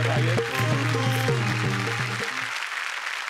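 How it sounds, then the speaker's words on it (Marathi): Studio audience at the Marathi comedy show Chala Hawa Yeu Dya breaks into steady, dense applause, with tonal stage music playing under the clapping for the first two and a half seconds. "एकदा जोरदार टाळ्या झाल्या पाहिजेत या मराठी माणसांसाठी."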